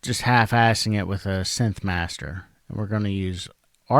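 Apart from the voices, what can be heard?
No distinct noise like a dog, phone or traffic.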